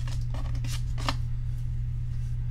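Handling of K-pop album photocards, with a few soft papery rustles and flicks of cards in the first second or so over a steady low hum, close and quiet, no talking.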